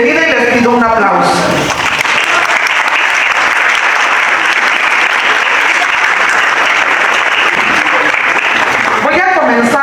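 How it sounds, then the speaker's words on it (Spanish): Audience at a formal CONSAR lecture session applauding: after a brief spoken introduction, loud, dense, sustained clapping fills the room for several seconds before a voice returns at the end. "les pido un aplauso"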